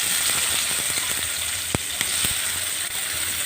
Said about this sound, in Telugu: కొంచెం పసుపు, కొంచెం కారం ఆయిల్లో వేయించండి